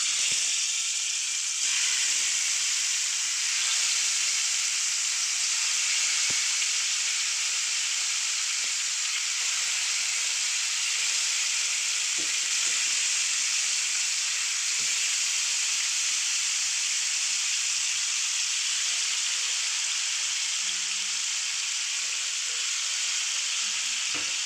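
Aar fish pieces frying in hot mustard oil, a loud, dense, continuous sizzle and hiss that runs unbroken throughout with only slight shifts in texture.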